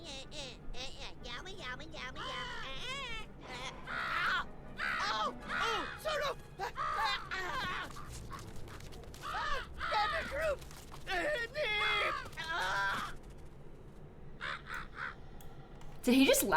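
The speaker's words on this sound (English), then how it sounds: "So he's provoking the crow." A crow caws repeatedly in The Sims 4, harsh rasping calls in quick bursts mixed with voiced game chatter, ending in a few sharper caws.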